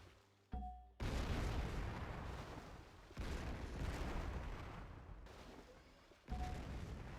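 Warships, including a King George battleship, firing in a Civilization V World War 2 mod, several heavy booming salvos in sequence, each a loud broad blast that rumbles and fades before the next.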